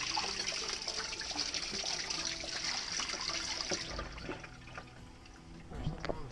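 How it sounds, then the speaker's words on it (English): Water running into a sailboat through an open seacock, a steady gushing wash of moderate level that eases slightly toward the end, with faint talk in the background. "this is about how fast the water runs in"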